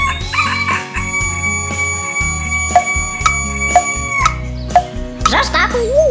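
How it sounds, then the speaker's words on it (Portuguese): Rooster crowing on a farm in a children's story, heard as short cartoonish calls over bouncy background music with steady beats and sustained tones. "Os animais, depois de ouvirem o cacarejar do galo Vasco, juntaram-se a nós"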